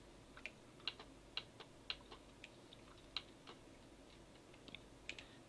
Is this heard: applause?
no